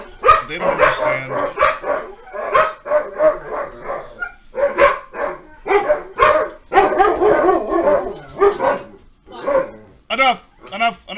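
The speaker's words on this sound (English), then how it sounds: "There's our dogs, everyone." Household dogs bark repeatedly in loud, close bursts of yips and woofs, with a few howl-like notes mixed in, over several seconds and barely pausing.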